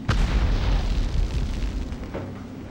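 A grenade detonates in the video game Medal of Honor: a loud, close boom with a sharp onset, followed by a deep rumbling decay that fades over two seconds, with a faint second thump near the end.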